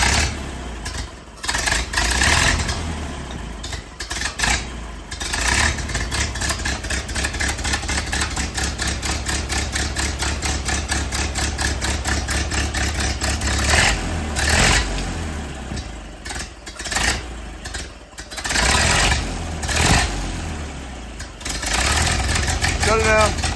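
A traditional 1929 Ford Model A hot rod engine runs while still cold, a steady close idle with a fast regular pulse and rough surges, with people talking over it.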